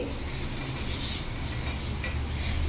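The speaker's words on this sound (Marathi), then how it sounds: "या टिश्यू पेपरने आपल्याला छान तेल पूर्ण याला तव्याला छान लावून घ्यायचं आहे" Soft, continuous rubbing of a tissue spreading oil over a metal griddle, a close, quiet rasp repeated with no voices over it.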